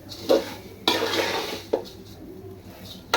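A spoon mixes ingredients together in a metal pot, with sharp clanks against the rim and scraping stirs in between, repeated several times at close range.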